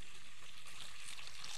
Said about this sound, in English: So hear the sound of the water.